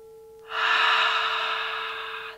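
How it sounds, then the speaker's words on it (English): A single long, deep breath during a guided yoga session, a steady breathy rush that swells in quickly and holds, fairly close and clear, with no talking over it. "Inhale. Exhale."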